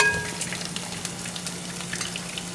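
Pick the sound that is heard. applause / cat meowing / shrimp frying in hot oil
shrimp frying in hot oil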